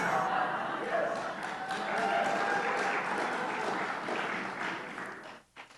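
A church congregation applauds, sustained dense clapping from a crowd that fades out near the end.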